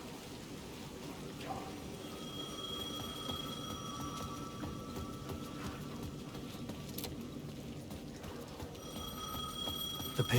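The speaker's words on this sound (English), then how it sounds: "The payphone at the edge of the plaza was ringing again." A payphone rings at the edge of a plaza in the video game Alan Wake 2. The repeated ring is faint and is heard over a low ambient rumble.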